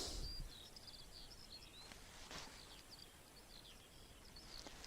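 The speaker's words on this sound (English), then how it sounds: "It's almost like it's not as loud as in a jungle here, but there's definitely some bird song." Faint birdsong drifts across a quiet outdoor farm in spring: scattered, distant chirps and short phrases repeat over soft background hiss.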